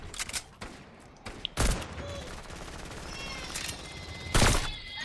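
SMG fire in Fortnite Zone Wars on PS5, scattered bursts of sharp shots with a loud blast near the end, heard amid game noise with little talk.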